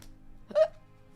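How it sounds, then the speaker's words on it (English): A single short, quiet burp from a person sorting Pokémon cards at home, a brief voiced croak standing alone in a near-silent room. "I just think I burped."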